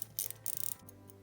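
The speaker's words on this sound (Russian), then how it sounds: "Заведем часы и посмотрим на ход 80-летнего механизма." An 80-year-old Kirovskie mechanical pocket watch, freshly wound, ticks softly and close up in a quick, even rhythm, alone in a quiet room.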